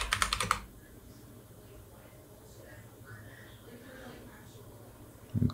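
A quick burst of computer keyboard typing while a Linux terminal command is entered, with clicks clustered at the start and a short flurry again at the end. Low room hum fills the gap between them.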